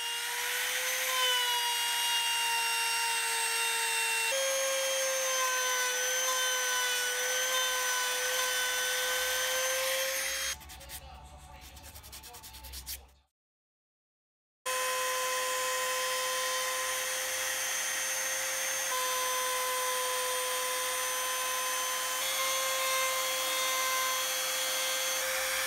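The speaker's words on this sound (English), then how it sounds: "There were just a couple of details left to add to the head to finish it off, and I did them with the trim router and a straight edge." A trim router guided along a straight edge cuts details into a wooden Thor's hammer head, giving a steady, close, high-pitched motor whine with a brief break and a moment of silence midway.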